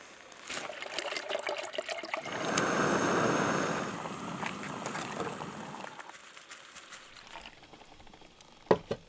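A kettle heats water for coffee at an outdoor camp near Pine Mountain Club, California, a low bubbling rush that swells for a few seconds and then settles back into faint trickling, with a couple of sharp knocks at the end.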